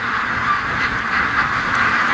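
A big clumped group of ducks quacks constantly and loudly at close range outdoors, the dense chatter of the flock mixing with a strong north wind.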